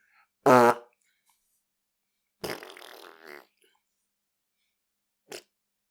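A voice imitates fart noises with the mouth, giving a loud buzzing raspberry, then a longer, softer sputter, then a short faint one, with silence between them.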